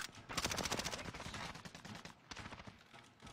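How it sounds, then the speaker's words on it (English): Gunfire in Call of Duty: Warzone, quiet rapid bursts of repeated cracks in two clusters separated by a short gap. "I'm being sniped at now"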